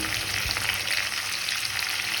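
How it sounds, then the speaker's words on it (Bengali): Prawns frying in a pan on a home stove give a steady, close sizzle with dense crackle that holds unbroken throughout, with no voices. "চিংড়ি মাছগুলো ভাজতে বসিয়ে দিয়েছি"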